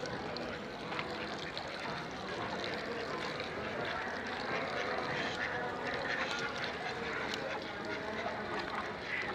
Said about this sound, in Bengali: এই হাঁসের কাম দেখ